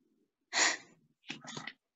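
Single sharp sneeze in a short film, preceded by a quick inhale and followed by a softer second burst, close and isolated against silence.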